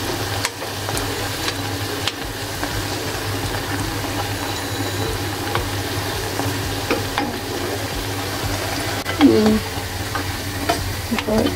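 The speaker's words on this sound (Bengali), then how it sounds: "এভাবে সবগুলো পিঠা ভেজে নিব" Pakon pitha, Bengali rice cakes, sizzle in oil over low heat with a steady, dense bubbling hiss throughout and a few faint clinks from the pan.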